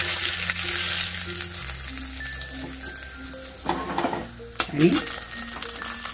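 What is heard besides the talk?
mustard seeds crackling in hot oil for tempering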